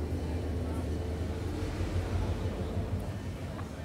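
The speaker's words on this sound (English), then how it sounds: "I'll wait for this train to do its thing, that way I'm not competing. It turns out it's much louder than me." A train passing close by, a loud, continuous low rumble and roar that stays steady for the whole stretch.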